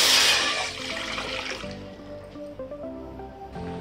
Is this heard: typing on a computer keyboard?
no